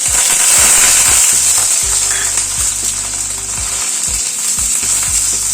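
Paneer cubes fry in white oil and a little ghee in a wok, a loud close sizzle with intermittent spatula knocks and scraping stirs against the pan; no one speaks.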